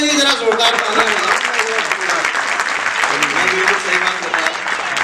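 A crowd at a Hindi kavi sammelan, with poet Prashant Agarwal on stage, bursts into loud, sustained clapping, close and dense for about five seconds, with voices mixed into the din.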